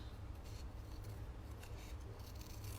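Scissors snip and rub through paper by hand while cutting out pumpkin shapes, a faint, continuous close scratching with irregular small crunches.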